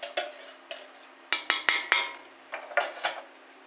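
A metal spoon scrapes and clinks against an emptied can of Hunt's fire-roasted diced tomatoes over a pot, about ten sharp, close strikes in irregular bursts with quiet gaps between them.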